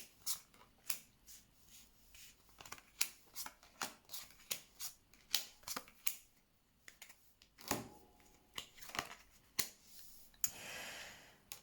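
Tarot cards are shuffled and drawn in quick bursts of crisp riffling and slaps, with short pauses between, recorded close and fairly quiet, ending in a longer rustle.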